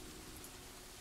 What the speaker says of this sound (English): that rain sound is starting to annoy me